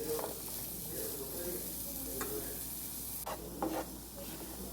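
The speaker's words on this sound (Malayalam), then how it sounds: "ഈ ചട്ടിയിൽ തന്നെ കുറച്ചുകൂടെ വെളിച്ചെണ്ണ ഒഴിച്ചിട്ട് നമ്മുടെ കുഞ്ഞുള്ളി നന്നായിട്ടൊന്ന് വാട്ടിയെടുക്കാം" Small shallots sauté in coconut oil in a pan with a soft, continuous sizzle, broken by a few brief scraping stirs of a utensil.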